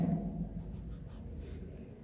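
Pen or chalk writing during a maths lesson on mensuration, a steady soft scratching and rubbing that runs continuously for about two seconds under a low room hum, with no talking.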